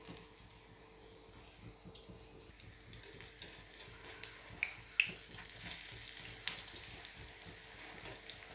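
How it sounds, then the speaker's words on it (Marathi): Solapur-style disco bhaji fritters fry in hot oil with a quiet, continuous bubbling sizzle and a few soft pops, heard alone and fairly distant. "सुरुवातीला अशीच भजी तळून घ्यायची आहेत, जास्त तळायची नाहीत"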